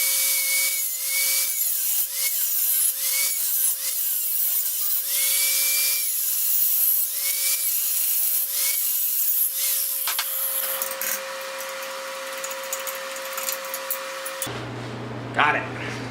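A saw cuts off the ignition coil mount on a Mini Stunter 125 motorcycle, with a loud, close, steady grinding whine and rhythmic strokes. The tone shifts near the end as the cut changes.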